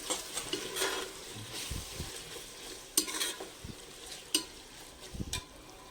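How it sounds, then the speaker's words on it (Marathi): Prawns coated with ginger, garlic, turmeric and salt being sautéed in a tomato masala, with soft sizzling and intermittent scraping stirs of a spatula against the pan, a few sharper clinks standing out. "आता याच्यात हे आपण प्रॉन्स जे मगाशी आलं लसूण आणि हळद मीठ सगळं घालून हे केलेले आहे ते ह्याच्यात परतून घ्यायचे आहे"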